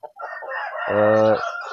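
A free-range village hen gives a single drawn-out cluck close by, building into a loud, sustained squawk that lasts about half a second before tapering off, with nothing else around it.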